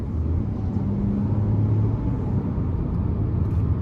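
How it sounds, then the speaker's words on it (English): Steady low road rumble and tire hum from inside a car riding on smaller wheels with beefier tires, constant and even with no voices. "the road noise is pretty minimal with these smaller wheels and tires"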